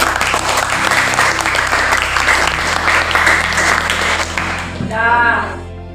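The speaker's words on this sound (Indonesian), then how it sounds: "Silakan kita tepuk tangan untuk dari kelompok." Classroom group applauding a presenting group of students, loud, dense clapping filling the room for about five seconds before tapering off into a brief voice at the end.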